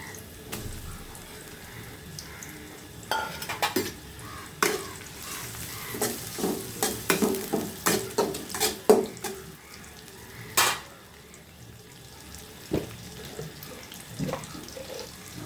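Chopped shrimp going into a pan with red spinach, frying with scattered stirring knocks and clatters over a low sizzle, close by and moderately loud, with no talking.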